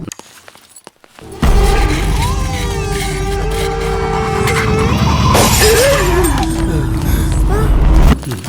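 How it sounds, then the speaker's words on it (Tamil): A fluorescent tube light breaks indoors, giving a loud burst of crashing noise that holds for several seconds, with a bright shattering smash in the middle of it. "Tube light உடைஞ்சிருக்கு."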